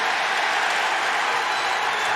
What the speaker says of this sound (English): Listen to that reaction from this crowd.